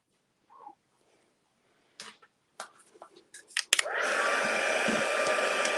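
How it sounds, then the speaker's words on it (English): Heat gun blowing to heat-set embossing powder on a greeting card, a loud steady hiss that starts abruptly and runs continuously after a few brief taps and handling noises. "And we'll just heat set that."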